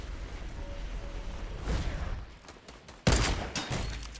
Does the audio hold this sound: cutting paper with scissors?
no